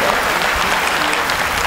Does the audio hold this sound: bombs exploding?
no